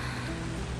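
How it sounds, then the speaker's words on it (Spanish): Rain beginning to fall outdoors, a steady dense hiss of drops hitting surfaces that fills the whole short moment at an even level with no talk. "Uy, empezó a llover, se está mojando."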